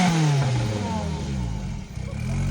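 Loud car exhaust at a car show, a close engine note that starts high and drops away as revs fall, then settles into a rough, burbling rumble with a brief clatter near the end.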